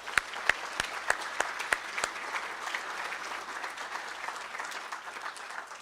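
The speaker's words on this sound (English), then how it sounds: "let's give one round of applause for all of our award winners today" At an awards ceremony, a room applauds its winners: a few sharp, loud claps ring out in an even rhythm over a bed of broader, softer clapping that carries on steadily.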